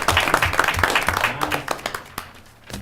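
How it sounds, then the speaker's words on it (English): A round of applause at a village board meeting, scattered clapping from a modest group in a meeting room, loudest at first and thinning out, with some voices murmuring underneath. "I think that does deserve a round of applause"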